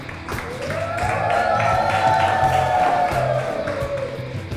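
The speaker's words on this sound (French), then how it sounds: "On applaudit pour nos amis." A children's audience of a primary school applauds on a TV show: a dense, steady wash of clapping with a few rising cheers and whoops on top, lasting the whole stretch at an even level.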